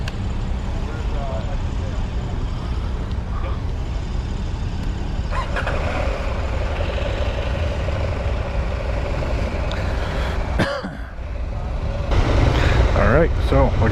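2023 KTM 890 Adventure R motorcycle ridden on a demo ride at Americade, a steady close engine drone with wind rush that dips briefly and swells again, while a rider talks over it.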